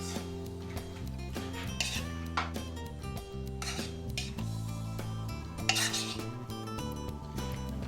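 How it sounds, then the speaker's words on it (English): A utensil scrapes and scoops seeds out of a halved acorn squash, making repeated close scraping and knocking sounds with a few sharper clacks over steady background music. "we got to scoop these seeds out and discard them"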